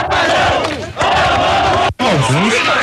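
An angry crowd of protesters blocking both lanes of a highway roars and shouts continuously, a dense, loud mass of voices with a brief cut near the two-second mark.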